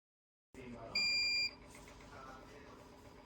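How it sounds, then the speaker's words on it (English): A Karl Fischer moisture titrator gives a short, bright electronic beep signalling the end of a run, heard once over a faint hum of room noise. "Wait until it completes, a beep will confirm completion"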